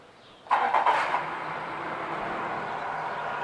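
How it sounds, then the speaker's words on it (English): A 2008 Yamaha F115 four-stroke long-shaft outboard boat motor cranks briefly and catches, then settles into a steady, fairly loud idle heard close up. "We'll go ahead and get this one fired up here."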